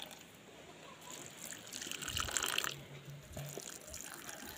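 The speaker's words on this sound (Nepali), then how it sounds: "अब चाहिँ म यहाँ मेरो फुलहरूमा पानी लाउनु पऱ्यो" Water poured onto potted flowers, a soft trickling and splashing that swells in the middle and then eases, close by with no talk.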